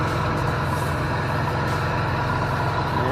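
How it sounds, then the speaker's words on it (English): The engine of a 2004 Chevy Venture van runs with its A/C compressor spinning, giving a steady, close, droning mechanical hum with a low throb and no talking. "It's not seized up, so the compressor's operating"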